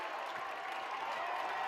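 A crowd cheers at a USC women's soccer game against Pepperdine, keeping up a steady, fairly distant roar for the whole stretch with no clear breaks.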